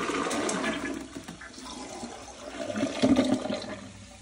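A toilet with Mentos candies dropped into the bowl flushes in a steady rushing swirl of water that surges louder near the end, with no talking.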